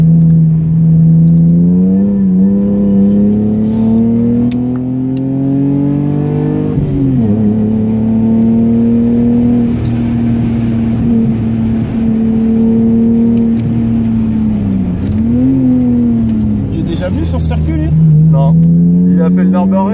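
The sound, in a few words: Lexus IS200 race car driving on Clastres circuit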